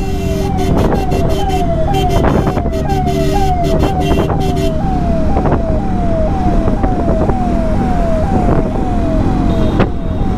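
A loud wailing ambulance siren sweeps up and down repeatedly, close and continuous, over rumbling heavy traffic and engine noise on the road from Siliguri to Dhupguri.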